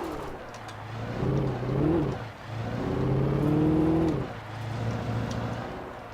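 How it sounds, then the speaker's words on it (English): A car drifting in the Alan Wake video game, its engine droning and revving in rising and falling swells, with a brief dip between the surges. "you can like drift in this game, man"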